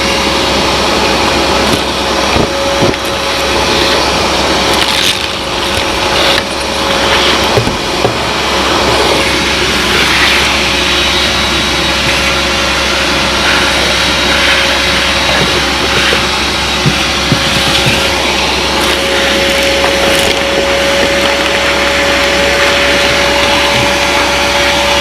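A Vevor shop vacuum running steadily, a loud, continuous whining roar with a constant tone throughout, close by and uninterrupted.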